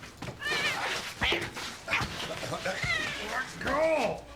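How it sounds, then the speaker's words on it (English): A cat meows repeatedly in a scene from the film A Man Called Otto (2022), several plaintive cries at close range, mixed with people talking over it. "Is that the cat from before? Or is that a new one?"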